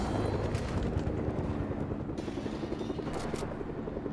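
A helicopter in the video game Fortnite, Chapter 2 Season 4 on Nintendo Switch, gives a steady low rotor thrum and engine rumble that carries on unbroken at moderate volume.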